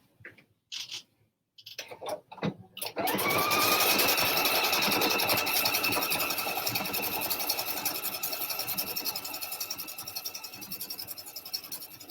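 A PFAFF sewing machine runs steadily, stitching along a fabric edge with a continuous fast whirring hum after a few short handling knocks and rustles at the start.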